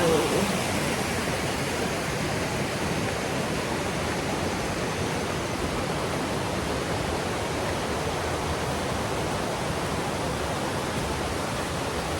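A creek beside a forest hiking trail in Cades Cove, on the way to Abrams Falls, rushes in a steady, broad wash of flowing water, continuous and fairly close, with no voices.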